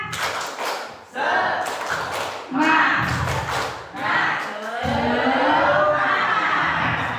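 A standing group joins in the rhythmic 'tepuk semangat' spirit clap at a school training session, producing bursts of patterned hand claps and thumps mixed with crowd voices and talking.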